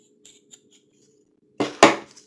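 Curry paste being stirred into oil in a pan: a few faint taps, then two short, close scraping bursts of a utensil against the pan, no speech.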